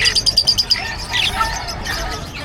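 Several caged birds at a pet market in Bocaue chirp and tweet in quick bursts, a rapid run of sharp calls at the start and then scattered chirps over a busy background.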